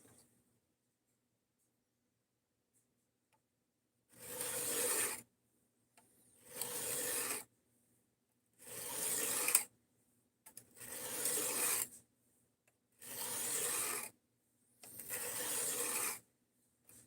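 A knife being sharpened by hand to raise a burr, six separate rasping strokes of about a second each, evenly spaced, with quiet pauses between.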